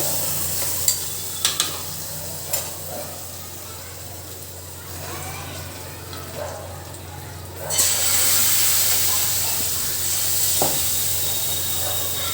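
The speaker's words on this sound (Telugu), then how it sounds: "ఇంకా అందులోనే వేసేస్తున్నాను తాలింపు కూడా" Steady sizzling and crackling of tempering spices such as cumin in hot oil, with a few sharp clinks of stirring early on and the hiss swelling louder toward the end.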